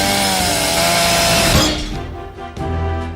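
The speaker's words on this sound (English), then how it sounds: "I just stopped a chainsaw with my bare hands." A chainsaw runs loud and steady in a movie scene, its motor whine holding continuously before dropping off and revving again near the end.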